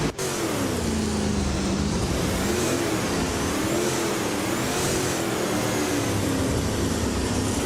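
A 2013 Nissan Altima's engine races in a video game at the Super 8 track, its revving tone rising and falling in steady waves, loud and close, with no talking over it.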